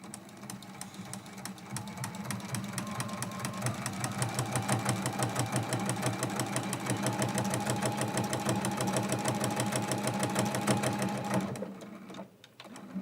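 A sewing machine runs a straight stitch at a 2.4 length through a thick quilt-as-you-go quilt block, a fast, steady, close mechanical whirring chatter that stops near the end with a brief shuffle.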